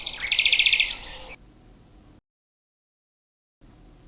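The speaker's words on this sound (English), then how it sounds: "A bird makes this sound." A bird gives a fast run of bright, high chirps lasting about a second, loud and close, followed by a faint tail and then silence.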